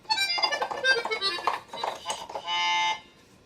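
On the melody backing setting, a Yamaha Sonogenic keytar plays a busy, bright synth line with accompaniment, finishing on a steady sustained note before falling silent.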